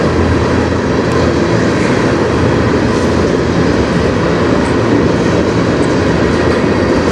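A CN freight train of hopper cars rolls past close by, a loud, continuous rumble and rattle of wagons holding steady from start to finish.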